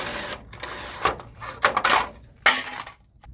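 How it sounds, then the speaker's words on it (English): Screws go back into the finisher cover of a Ricoh MP C6004 copier. Several close, sharp metallic clicks and scrapes come in short bursts, with small handling noises between them. "put those 2 screws back"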